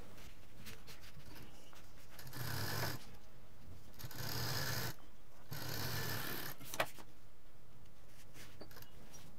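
Sewing machine stitching a strip onto a transparent utility bag, with three distinct bursts of machine running separated by pauses and handling noise, no talk.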